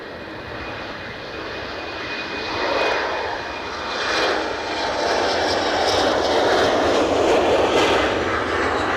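A fixed-wing jet airliner's engines roar steadily at Edinburgh airport, a loud continuous broadband rush that swells gradually as the aircraft passes close by, with no talk over it.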